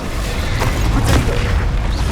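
Incendio fire spell cast in combat in Hogwarts Legacy, a loud continuous roaring boom of flame that fills the short stretch without a break.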